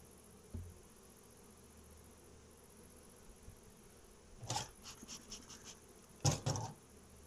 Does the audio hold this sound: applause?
no